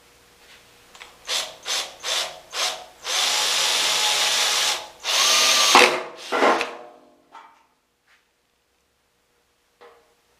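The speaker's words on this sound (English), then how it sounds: "I have to drill the same set of holes" A power drill whirs in several short bursts drilling holes in the metal fuel tank of a 1976 Mazda RX-5, then runs in two longer grinding stretches before winding down, followed by a few faint clicks and quiet.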